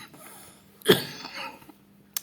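A single sharp cough bursts out, followed by a softer throat-clearing rasp, in a quiet room.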